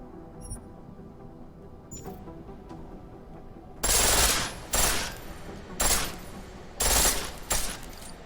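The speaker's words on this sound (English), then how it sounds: "The pistol in full auto will take down targets fast, but it'll burn through your ammo." Bursts of full-auto fire from an automatic pistol in Deus Ex: Mankind Divided, five short rapid bursts spaced about a second apart after a few quiet mechanical clicks.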